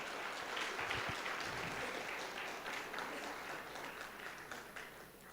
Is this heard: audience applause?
yes